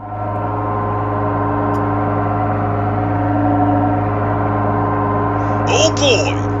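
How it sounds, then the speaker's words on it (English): A washing machine spinning a badly unbalanced load on a home's second floor before dawn gives a steady, loud mechanical hum with a rhythmic wobble throughout, and a brief higher clatter near the end. "That is the sound of a wildly unbalanced load spinning in a washing machine."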